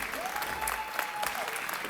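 Spectators applaud and cheer at a LUX Fight League women's pro bout, a sustained wash of clapping that fills the whole moment, with a commentator's voice faintly threaded underneath.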